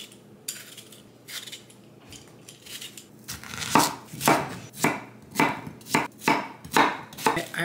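A knife chops kimchi ingredients on a cutting board: a few light taps, then a loud, even run of about a dozen firm chops, close and clear.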